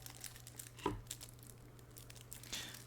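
Inner foil wrapper of a Bicycle Prestige plastic playing card deck crinkling softly up close, light crackles and rustles scattered through a quiet stretch.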